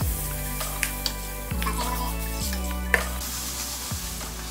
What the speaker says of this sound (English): So what we want to do is turn the heat down to about medium, and then just keep stirring and tossing.